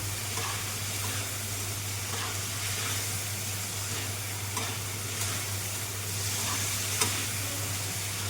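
Boiled potatoes are stirred in a frying pan for a vegetarian aloo phulkopi (potato-cauliflower) dish, with a soft continuous sizzle, a low steady hum beneath, and occasional light spatula taps against the pan.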